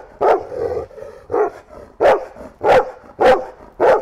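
A reactive Labrador barks repeatedly and loudly at close range, about six sharp barks in an uneven rhythm, with fainter whining sounds between them.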